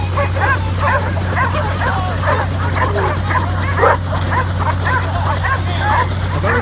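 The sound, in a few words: working trial dogs barking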